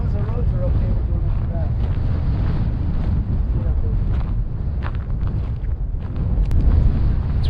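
Strong, cold wind in eastern Nevada's snowy White Rock Range buffets the microphone with loud, continuous low rumbling gusts, while faint voices come through underneath.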